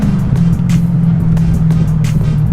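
A V8-powered car's engine drones loudly and steadily up close, a strong low rumble with brief crackling bursts scattered through it, consistent with exhaust pops.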